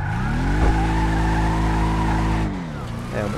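Dodge Challenger in GTA V Online, its engine droning loudly before the tires break into a sustained squealing skid, then the revs cut and a brief screech follows near the end.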